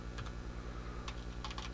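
Fingers type on a computer keyboard in a short burst of quick, light key clicks, close by, over a faint steady hum, with no one speaking.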